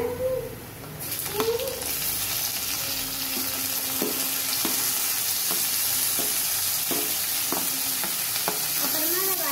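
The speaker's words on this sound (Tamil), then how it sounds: "அப்புறமா அதை வதக்கிக்கோங்க." Green chilli and tomato are sautéed in a pan with a steady sizzle, while a spoon scrapes and stirs in repeated light clicks over the frying hiss.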